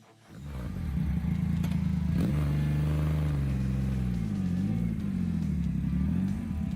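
A 2020 Triumph Rocket 3R motorcycle engine starts and settles into a loud, deep, steady rumble, with the pitch wavering slightly as it is blipped, heard close and alone.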